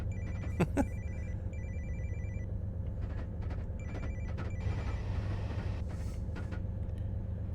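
A telephone rings repeatedly in a rhythmic two-tone pattern aboard a moving East Coast Main Line train between York and Newcastle, steady over continuous rumbling rail noise.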